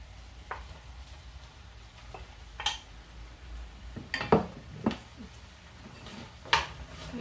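Chicken, mushrooms and broccoli are stirred in a frying pan, with a low sizzle underneath and a few sharp utensil scrapes and clinks against the pan at irregular intervals, close but quiet.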